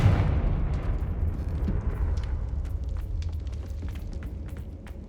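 Confringo blasting spell in Hogwarts Legacy erupts with a loud, booming explosion that hits hard at the start, then rumbles and crackles as it slowly fades over several seconds.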